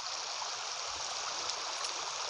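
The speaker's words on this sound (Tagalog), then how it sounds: "andito ngayon ako sa ilog" Steady, soft rushing of river water flowing over a shallow rural riverbed, a continuous broadband wash heard at a moderate distance with no voices.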